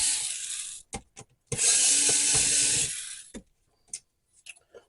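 Screws are backed out of a PlayStation 2 controller port with a screwdriver. Ratcheting clicks and scraping come in short bursts, with one long continuous grinding stretch in the middle, close and fairly loud, with no talking.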